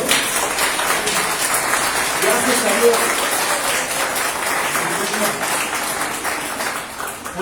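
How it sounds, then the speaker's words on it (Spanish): Church congregation applauding during a prayer and spiritual warfare service, a steady wash of clapping that runs through the whole stretch while a voice speaks over it. "Dale el aplauso a Cristo"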